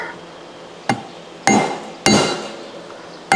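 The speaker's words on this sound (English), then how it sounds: "ping that with my hammer" Several sharp metallic hammer strikes on a push broom's metal part ring out at irregular intervals, each bright ping decaying into a short shimmering ring.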